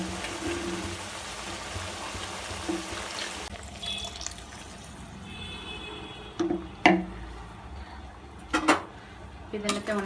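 Curry ingredients, ground shallot, chili and coriander paste, are stirred together in a pot for lamb head curry, with quiet scraping and several sharp metallic clinks of a spoon against the pot, mostly in the second half.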